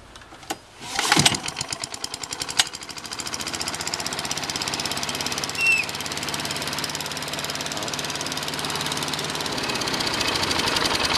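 A vintage gold Victa lawn mower with a primer is pull-started, coughs and catches, then its two-stroke engine runs with a steady rapid popping drone, close and loud, gradually rising in level.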